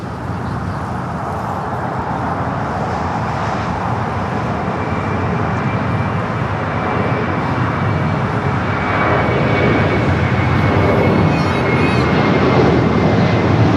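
A British Airways airliner at LAX, a loud continuous broadband engine roar that holds steady and swells slightly toward the end, heard alone with no talk.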